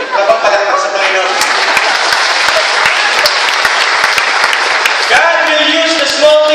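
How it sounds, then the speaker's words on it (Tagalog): Congregation applause at an evangelical church anniversary service, a loud, dense burst of clapping from a crowd with a voice speaking over it at the start and end. "Kapag palakpak sa Panginoon"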